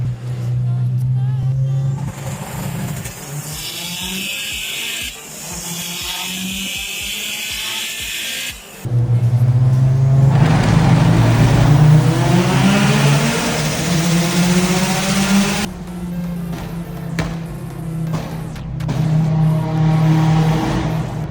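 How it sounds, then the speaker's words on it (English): A 900HP Subaru on a mountain road runs rolling anti-lag, its engine droning loud and close with rough surging revs, crackling pops and sudden shifts in pitch, a voice briefly audible over it. "Gotta slow down so Dalton can see the rolling anti-lag"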